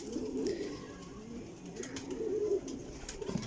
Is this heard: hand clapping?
no